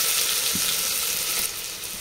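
Onions frying in hot oil with whole garam masala for Hyderabadi mutton paya, a dense close sizzle that stays steady for a couple of seconds.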